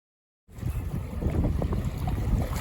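Strong wind gusting across a beach at low tide after a storm, a loud rumbling buffet that batters the microphone and starts abruptly after a short silence, then continues steadily.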